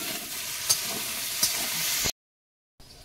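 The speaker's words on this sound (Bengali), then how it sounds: "ওদিকে কচু আর আলুটা তো দারুণ ভাজা হচ্ছে" Taro and potatoes fry in hot oil with a steady, bright sizzle and a couple of faint stirring clicks, cutting to silence before the frying resumes more quietly.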